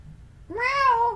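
A house cat lets out a single close, clear meow that rises and then holds, following a brief low rumble of background noise.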